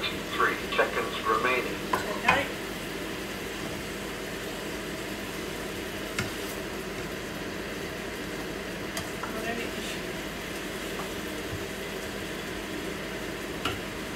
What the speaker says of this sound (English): I'm just going to make a whole heap of stir fry veggies with snapper